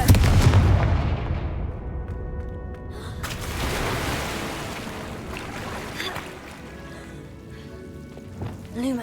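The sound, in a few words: Confringo blast spell explosions in Hogwarts Legacy video game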